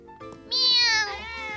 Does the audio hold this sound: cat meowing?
yes